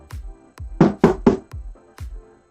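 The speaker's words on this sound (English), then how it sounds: "That's not a good kick drum." A thin, boxy kick drum with phase cancellation thumps several times in an uneven pattern, hollow like a shoebox and lacking low punch, alone with no other instruments.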